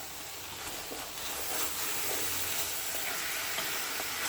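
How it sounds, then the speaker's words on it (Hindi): Carrot halwa made with khoya roasts in a pan, giving a steady close sizzle and hiss with soft stirring scrapes. "अभी मैं इसकी भुनाई कर रही हूँ, बस अब एंड पर है।"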